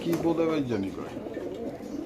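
Low, throaty pigeon cooing close by, repeating softly over a steady background hum.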